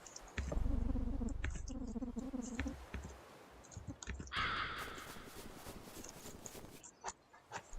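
A crow caws in the video game Lisa: Definitive Edition, a few harsh calls among clicking game sounds and a burst of noisy effects, with no talk.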